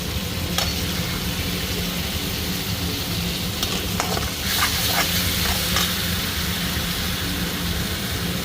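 Spice masala being stir-fried in oil in a home kitchen pan for a potato and drumstick curry: a continuous close sizzle and frying hiss, punctuated by scraping strokes of a spatula stirring the mixture.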